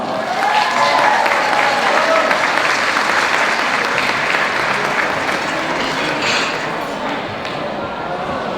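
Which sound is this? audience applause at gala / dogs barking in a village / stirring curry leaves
audience applause at gala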